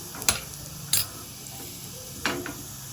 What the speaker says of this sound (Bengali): আমি এই হাতাতে আমি রসুন গোটা জিরে ভেজে নিচ্ছি